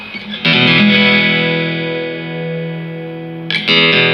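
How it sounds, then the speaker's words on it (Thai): Loud chords from a Morris Tornado X round-back electric acoustic guitar through an amplifier ring and sustain, with a second strum near the end; rich tone, close and alone without talking. "เป็นเนื้อเสียงของกีตาร์ตัวนี้เลยที่ออกกับผ่านตู้แอม"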